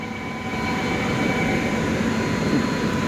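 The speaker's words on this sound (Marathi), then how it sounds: "ही येते बघा आपली गाडी." A small four-car Lucknow metro train pulls into the platform with a steady, loud rolling rumble and a faint high whine running throughout, and no voices.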